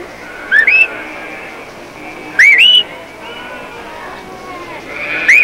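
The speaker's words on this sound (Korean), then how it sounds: "이 개는 목동의 휘파람 소리를 듣고서" Three sharp rising shepherd's whistles for a herding dog ring out, evenly spaced, each a quick upward-sweeping tone over a quiet background.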